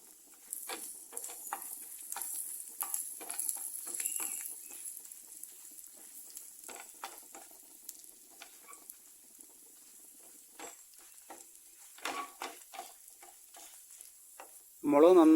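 Chillies, garlic and curry leaves frying in a pan, with a soft crackle and patter of scattered pops, quiet through the middle and busier near the end, where a louder burst cuts in.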